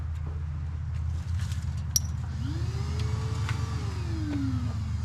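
A 1985 Dodge pickup engine with a stuck throttle holding a steady, fairly quiet high idle, with a rising and falling whine partway through.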